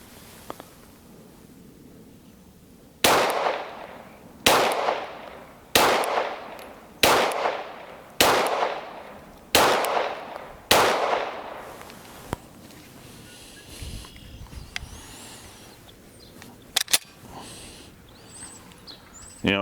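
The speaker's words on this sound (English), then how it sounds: "final shots on our FNS9 Longslide" Seven sharp pistol shots from an FN FNS9 Longslide crack at an even pace, each followed by a short echoing decay, then a few faint metallic clicks and handling noises.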